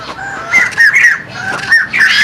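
Australian magpies in an aviary give loud, warbling, flute-like calls, rising and falling in overlapping phrases close by with no talking.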